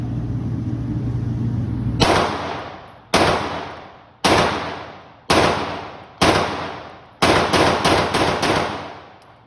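Shadow Systems DR920, a Glock 17 style pistol, fired at a range: eight loud, sharp gunshots, the first few spaced about a second apart, then a quick string of four, each with a ringing decay.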